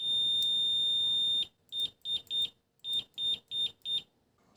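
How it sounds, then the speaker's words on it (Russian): Continuity tester of an FNIRSI DMC-100 clamp meter and multimeter, giving a sustained high-pitched beep for over a second, then eight short repeated beeps in an uneven rhythm, loud and close with no talking. "В режиме прозвонки звучит сигнал, когда сопротивление между щупами меньше 50 Ом."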